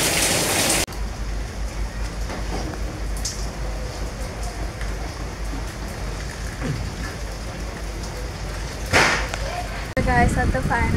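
Rain falls steadily outdoors during Diwali while a rangoli is being made, a continuous hiss and patter, with brief knocks and a voice near the end.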